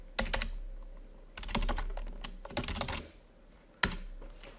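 Bursts of typing on a computer keyboard, clustered key clicks in uneven runs separated by short pauses, with a sharp isolated tap near the end, close and fairly quiet.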